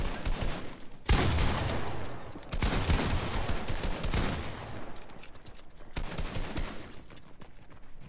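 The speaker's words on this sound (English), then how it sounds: "John, stop spamming with the AR" Sustained assault rifle fire in the Fortnite video game, dense rapid bursts of shots filling most of the stretch with brief gaps, loud and close, with no talk over it.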